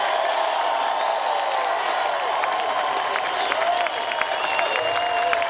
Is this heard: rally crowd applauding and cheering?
yes